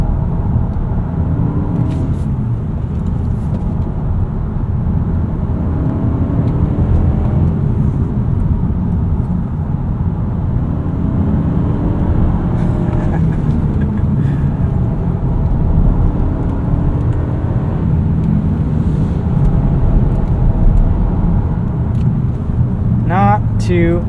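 A 2025 Toyota Camry XSE AWD driving on a back road, heard from inside as a steady low engine and road rumble with tire noise that swells slightly, while someone talks over it throughout.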